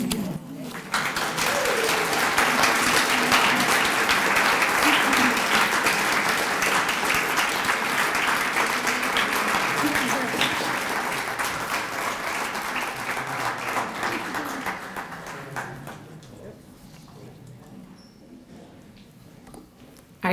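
An audience at a women's history event applauds a speaker named Dolores, a loud, steady round of clapping that holds for about fifteen seconds, then fades and tapers off to quiet.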